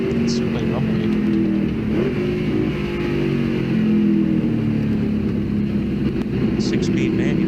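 Rumbling pickup truck engine with a 6-speed manual, a steady low drone idling and revving continuously throughout, with people talking over it.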